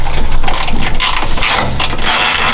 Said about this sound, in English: Taking our 4mm hex, we're going to remove this.